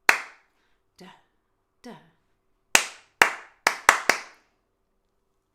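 Hand clapping in a sing-along game, with a few spaced claps and then a quick burst of five sharp claps in rhythm. A voice chants syllables in the same rhythm before the claps.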